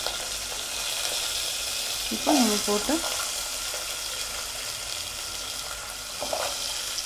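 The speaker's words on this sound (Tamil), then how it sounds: "ஃபஸ்ட்டு வந்து இதை வந்து நல்லா ஃப்ரை பண்ணிக்கலாம்." Potato pieces frying in a pan for a potato cabbage poriyal, a steady soft sizzle that runs throughout, with a brief spoken phrase near the middle.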